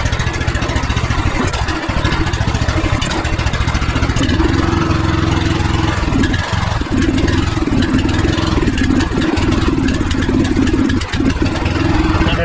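A pressure washer's small engine runs steadily close by, a loud continuous rough drone with a faint rhythmic chug and occasional brief dips, no talk over it.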